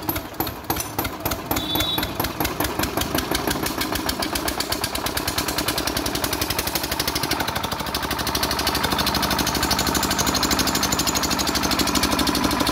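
A 10 HP engine generator driving a 7.5 kVA alternator runs nearby, a loud steady thumping, knocking engine note with a rapid regular pulse that holds unbroken throughout.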